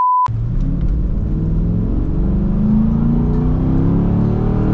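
A Corvette engine rumbles after a short beep, climbing slowly in pitch as it revs moderately, a deep steady roar close by without talking.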